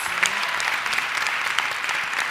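Even, continuous round of applause from an audience at an event, dense clapping at steady level with no speech.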